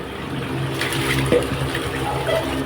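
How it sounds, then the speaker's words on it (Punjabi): Water poured out of a pigeon's water container, a steady splashing flow with a brief clatter midway, fairly loud and close, no speech. "ਪਾਣੀ ਆਪਾਂ ਕੱਢਦੇ ਆ ਬੜੇ ਇਹਨਾਂ ਦਾ ਗਰਮ ਜਿਹੜਾ ਪਾਣੀ ਹੋਇਆ ਉਹ ਆਪਾਂ ਚੇਂਜ ਕਰਾਂਗੇ"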